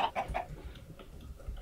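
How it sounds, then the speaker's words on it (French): Chickens in a Minecraft game give a quick run of three clucks, then fainter clucking over a low rumble of game background sound. "Oh, y a des poulets."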